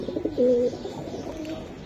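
A single soft, low pigeon coo rises briefly and clearly over a quiet background.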